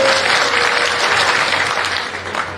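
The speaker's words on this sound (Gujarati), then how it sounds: "જોરદાર તાળીઓ બજાવો" Sustained applause from a crowd at a political rally in Gujarat, a dense steady wash of clapping that stays loud throughout and tapers slightly at the end, with no talk over it.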